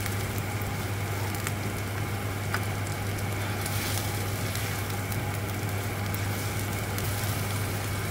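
Three large onions with green and red peppers fry in vegetable oil for a stuffed cabbage filling, giving a steady, even sizzle over a low hum with no voices.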